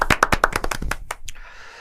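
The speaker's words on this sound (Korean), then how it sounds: "박수." Audience applause at a school-life talk event in Korea: a burst of sharp hand claps for about a second, then fading into a soft trailing hiss.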